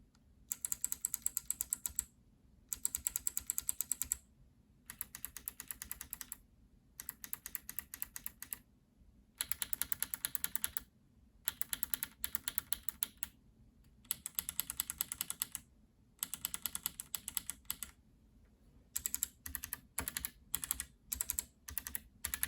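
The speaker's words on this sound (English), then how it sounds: "letting you hear how they sound like inside a steel plate but plastic enclosured keyboard on a desk mat" Clicky Kailh BOX switches on a steel-plate keyboard with a plastic case, resting on a desk mat, typed in repeated bursts of sharp crisp clicks separated by brief pauses, close and alone, with quick rapid taps near the end.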